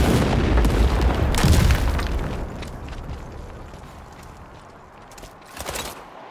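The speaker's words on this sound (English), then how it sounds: "Friendly airstrike incoming." Heavy airstrike explosions in the military video game World War 3: Tactical Ops, a loud booming blast rumbling at the start, then fading rumble with a smaller burst near the end.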